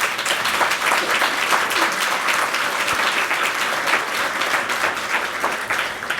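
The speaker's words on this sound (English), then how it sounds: "give yourself a round of applause" Audience at a morning fireside chat event applauding, a dense, sustained wash of many hands clapping at steady loudness throughout.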